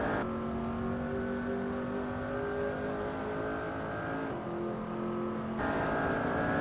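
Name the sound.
McLaren 720S engine revving in a driving sim video game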